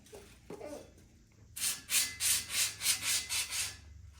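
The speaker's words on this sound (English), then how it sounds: "You got a lot of scrubbing to do." Stiff scrubbing of paint and grime off a dirty engine part for a Henry J, heard as about eight rhythmic back-and-forth rasping strokes, close and fairly loud, after a few softer knocks and scrapes.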